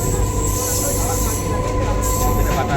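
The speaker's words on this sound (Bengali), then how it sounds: "কাটোয়া লোকাল ধরে এবার বাড়ির দিকে রওনা" Katwa local commuter train running with a loud, continuous rumble of wheels on rail and a faint squeal, heard from aboard, steady throughout without talking.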